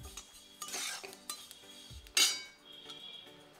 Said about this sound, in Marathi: आपल्या तिळाचा असा आवाज यायला लागला की समजाच आपले तीळ भाजत आहेत